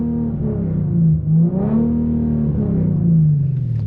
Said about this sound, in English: Let's put it in neutral. Let's rev it with the windows up.